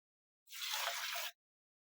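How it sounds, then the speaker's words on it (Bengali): Black gram lentils are swished in water for rinsing: a single short, soft watery rush lasting under a second, alone against silence. "এবার খুব ভালোভাবে দু থেকে তিনবার জল পাল্টে আমি ডালটা ধুয়ে নিচ্ছি"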